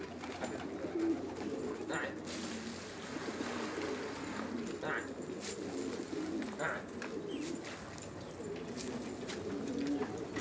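Pigeons or doves cooing in repeated soft rounds from a flock of about 200 birds, steady low calls over a continuous outdoor background, fairly faint throughout.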